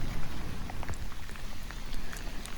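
Rain falling near a home, a steady dense patter with scattered sharper drops close by, no voices.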